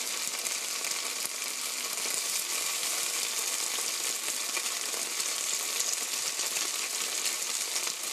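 Chicken pieces pan-frying in a little oil for sweet garlic dakgangjeong give a steady, dense sizzle that crackles evenly and fairly loud from start to finish, with no talking.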